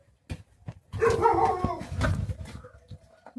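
A dog vocalizes close by in a run of yelping, whining barks, with short yips and whimpers before and after.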